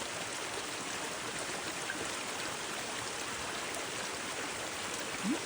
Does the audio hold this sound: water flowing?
yes